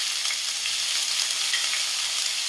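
Whole spices and onions fry in hot oil for a Murgh Masala, giving a dense, bright, continuous sizzle with constant popping and splattering. The sound is close and even, with no voices.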